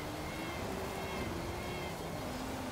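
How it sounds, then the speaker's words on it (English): Cat-meow car horn honking in the Forza Horizon 5 racing game, a steady tonal sounding that holds for nearly three seconds over constant engine and road noise, with no one talking. "Too much cat horn."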